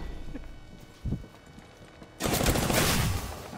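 Gunfire in the video game Apex Legends: a couple of isolated thumps, then a sudden loud burst of rapid sustained shooting that fills the last second and a half.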